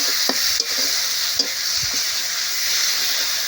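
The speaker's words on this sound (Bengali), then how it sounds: "একটু গরম মশলার গুঁড়ো দিয়ে দেব দিয়ে বেশ ভালো করে নেড়ে চেড়ে নেবো" Garam masala powder stirred and fried in a pan for a spicy Bengali bombay duck fish curry: constant close sizzle with a few light utensil scrapes and taps, no voices.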